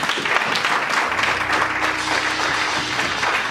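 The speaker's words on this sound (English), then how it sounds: "Let's clap our hand for Jesus" A church congregation claps during a Sunday worship service, a dense, continuous patter of many hands at fairly loud level, with a low sustained musical tone underneath.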